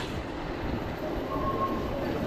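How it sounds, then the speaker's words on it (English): The Iron Gwazi roller coaster train at Busch Gardens Tampa climbs its lift hill some distance away, a continuous mechanical rumble with light clatter and a brief metallic squeal partway through. "They got a train going right there, up on the lift hill."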